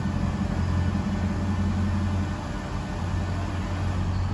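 2009 Honda engine idling up to about 1400 rpm with a misfire, heard as a steady low rumbling drone with a slightly uneven, lumpy throb, close and continuous with no talk.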